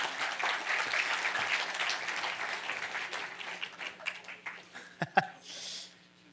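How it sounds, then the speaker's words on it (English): Applause from a brewery audience at a science talk, welcoming volunteers onstage: dense clapping that swells, then thins into scattered claps and a few chuckles as it fades out. "Give them a round of applause, guys."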